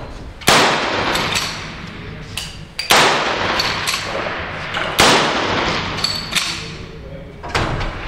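Gunshots fired at a shooting range during a timed five-shot string: four or five sharp, loud reports at irregular intervals of about two seconds, each followed by a short decaying echo.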